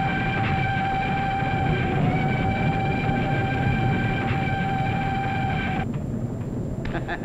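A train pulls into a station on a steady, loud rumble with sustained tonal hums above it, and the noise eases and thins out near the end.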